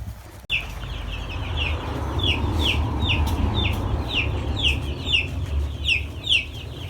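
A flock of broiler chickens clucks steadily nearby, with repeated short calls over a continuous low rumble, no one speaking.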